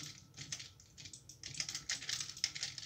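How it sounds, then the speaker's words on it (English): Rapid clicking keystrokes on a computer keyboard during a game of 1v1.lol, quiet and close, with bursts of faster key presses and no speech. "I'm playing on keyboard."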